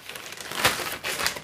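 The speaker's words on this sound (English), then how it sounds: "plastic bag" A plastic bag crinkles and rustles in hand while baking a pecan pie, with short bursts of close crackling that peak twice over a moment and no voices.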